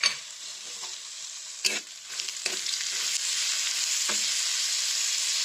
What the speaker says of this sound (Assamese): এতিয়া ইয়াতে মই নহৰু আৰু কেঁচা জলকীয়া যে খুন্দি লৈছিলোঁ সেইখিনি দিম আৰু হালধি নিমখ দি অলপমান ভাজিম।